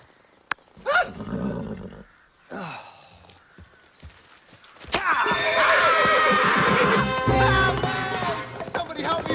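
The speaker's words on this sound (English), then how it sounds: "The horse isn't going to move unless you give him a command." A horse neighs and whinnies amid a dramatic fantasy scene, with snorts and breathy gasps early on, then a loud, extended, shrill whinny over the last few seconds, close, mixed with voices and commotion.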